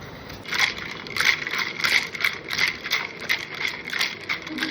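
Ice cubes shaken in a cocktail shaker while making bubble tea give rhythmic, bright clattering rattles, each shake landing roughly every third of a second, close and fairly loud.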